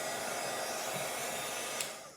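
A heat gun blows steadily while drying watercolour paint, a constant close airy whoosh with a motor hum that holds evenly before cutting off near the end, with no talking.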